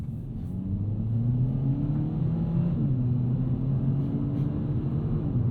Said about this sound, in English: The exhaust is not the most aggressive thing in the world.